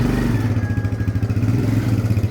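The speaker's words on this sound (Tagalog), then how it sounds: "maingay tapos hirap humatak. Yan yung issue ng motor ni boss" Kawasaki Barako motorcycle engine running rough and noisy while struggling to pull, a close, steady low throb with rattling clatter throughout.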